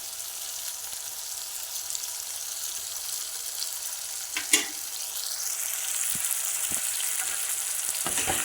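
Chicken and potatoes sauté in masala for a chicken and seppankizhangu gravy, giving a steady, moderate sizzle, punctuated by a few light clinks of a utensil against the pan.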